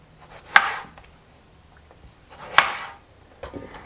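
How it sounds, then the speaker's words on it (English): A knife halves tomatoes on a cutting board in two sharp, separate cuts a couple of seconds apart, each a crisp thud close up, followed by faint handling noise. "Let's go ahead and cut our tomatoes in half and put it in the blender."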